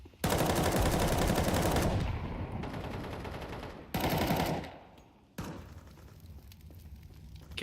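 Automatic rifle fire rattles in long, loud, sustained bursts with short pauses during a professional Counter-Strike match, close and dominant, with no talk over it.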